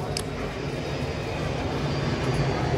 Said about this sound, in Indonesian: Suara pesawat ya?